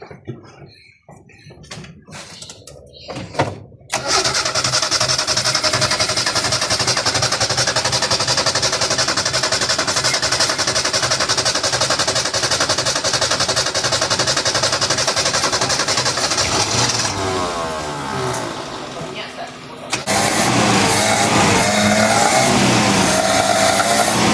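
A Ford Econovan 1400, left unused for six years, idles roughly with a loud, close, uneven stuttering engine note that misfires in rapid bursts, with a brief dip and a sharper surge near the end.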